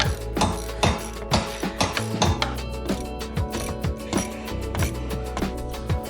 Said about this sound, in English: Grab your T30 screwdriver and remove the 3 screws on the filter cover.